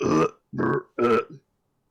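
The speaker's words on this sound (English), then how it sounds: "But I need like more burps." A man burps deliberately as a voice performance: three loud, close burps with short pauses between them and a small trailing croak after the last.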